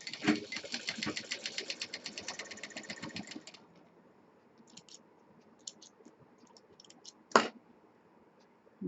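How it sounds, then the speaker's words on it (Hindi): Sewing machine stitching the folded edges of a sling potli bag's fabric straps, a rapid steady run of close mechanical clicks for about three seconds, then quiet with a few brief clicks and one sharp knock. "दोनों पट्टियों के किनारे हम सिल देंगे।"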